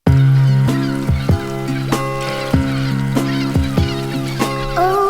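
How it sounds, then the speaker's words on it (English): A record sample sped up on a record player plays, with squeaky, pitched-up musical notes in a choppy rhythm, loud and up close. "Obviously you hear that it's pitched up a lot because it was pitched up on the record player"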